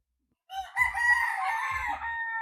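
A ten-month-old White Kelso gamefowl broodcock crows once, close and loud, a single drawn-out call of about two seconds with nothing else around it.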